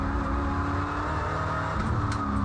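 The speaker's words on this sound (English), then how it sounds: "Sounded like the revs didn't quite match the gear he was in." V8 touring race car engine heard from on board during a circuit race at Timaru, roaring steadily and loud with a mismatched downshift, revs surging under load.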